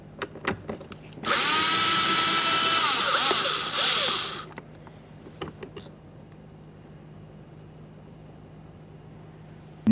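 A power tool spins a 10mm socket to remove a window motor mounting bolt on a 2009-2014 Nissan Maxima: a few short clicks, then a loud, close, steady whir for about three seconds that winds down, followed by scattered handling taps.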